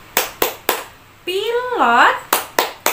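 A teacher leads a preschool profession-themed clapping chant, giving sharp rhythmic hand claps, three in a row, then a sung word with a rising and falling pitch, then three more claps in the same steady beat.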